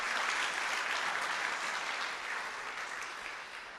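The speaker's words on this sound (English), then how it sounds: "I just want to give you a round of applause for all of your hard work" Gala audience applause, a dense, even wash of many hands clapping close and loud, tapering off slightly toward the end.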